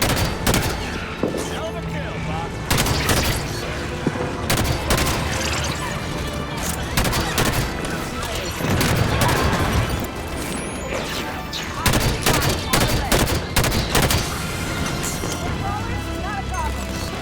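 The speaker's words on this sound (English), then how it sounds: "Taking fire from the left." Gunfire from the video game Halo 5: Guardians, with repeated bursts of automatic shots and sharp cracks in a busy firefight, mixed with impacts and crashes, while voices talk over the shooting.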